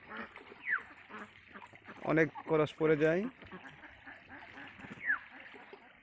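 Ducks on a duck farm give a few short quacks, fairly close, while someone talks over much of the sound.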